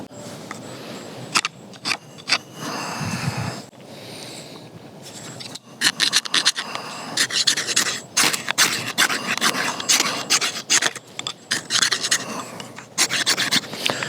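Ferro rod scraped against the sharpening choil of a Gerber Strongarm knife, giving repeated rough rasping strokes, close and fairly loud, in bursts with short pauses between them and no talking.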